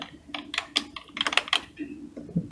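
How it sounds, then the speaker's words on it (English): Rapid clattering keystrokes on the keyboard of an Amax Pentium Windows 98 computer, close and uneven, with a short pause near the end. "this is the keyboard. Very noisy."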